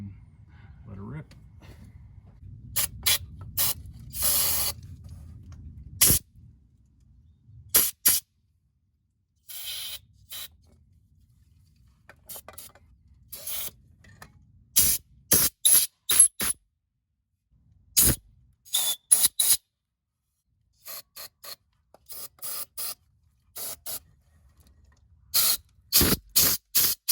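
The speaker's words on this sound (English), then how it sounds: "just pretty much wipe all surfaces clean with the brake cleaner and fresh towel on both sides" Brake cleaner sprays onto engine surfaces of a 4.7 L Toyota Land Cruiser 100 Series during a starter install, heard as many short, sharp hissing bursts in irregular clusters, with a low hum early on.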